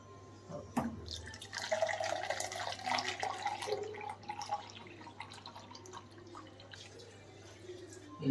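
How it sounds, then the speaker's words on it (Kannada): Water poured into a pressure cooker over leafy greens for an Andhra-style dal, sounding like a running, trickling and splashing flow that rises and falls over several seconds, close by, with no speech. "ಸೊಪ್ಪನ್ನ ಬೇಯಷ್ಟು ನೀರು ಹಾಕೊಂಡು"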